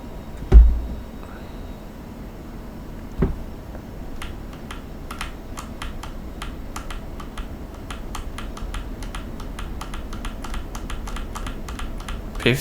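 Rapid, irregular clicks of computer keyboard keys pressed to operate an F-16C Viper flight simulator, fairly close and crisp, with a louder thump near the start and a steady low background hum.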